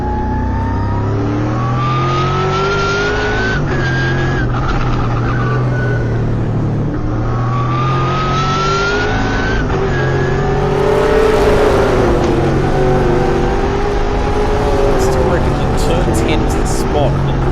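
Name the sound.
TA2 race cars accelerating at Morgan Park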